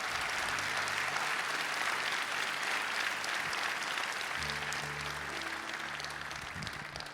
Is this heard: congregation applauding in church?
yes